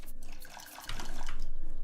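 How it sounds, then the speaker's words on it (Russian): Water pouring in the survival game Raft, a steady rushing splash with a pulsing texture that swells louder partway through. "Я опять слышу, как ты льешь воду."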